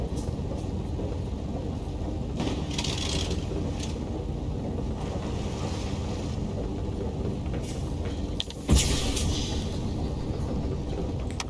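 The land ship in Far: Lone Sails chugs along in a steady low mechanical rumble with wind-like hiss, brief clanks, and a sharp burst near the end, continuous and moderately loud.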